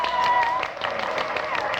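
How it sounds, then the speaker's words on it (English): A parade crowd in a radio drama murmurs and claps in a brief, dense wash of noise, with a voice heard over it. "The crowd's murmuring now."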